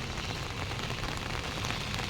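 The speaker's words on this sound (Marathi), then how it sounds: "जर असाच पाऊस सुरू राहिला" Heavy monsoon rain falls steadily over a town and flooded paddy fields, a dense, even roar of drops hitting surfaces, close and continuous with no voices.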